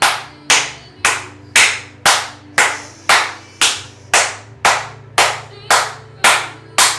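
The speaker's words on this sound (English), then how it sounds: "Clap your hands in front of your heart." A single person claps their hands in a steady, even rhythm during a breathwork and yin yoga session, about a dozen sharp, close claps evenly spaced with a low hum underneath.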